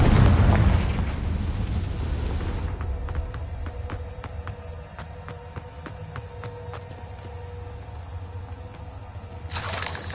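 A Confringo blasting spell goes off in a Harry Potter video game, a loud explosive rumble that booms and then decays into a crackling tail of sharp debris clicks before a second burst hits at the end.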